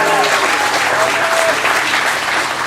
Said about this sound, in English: can we all give the beautiful bride a big round of applause?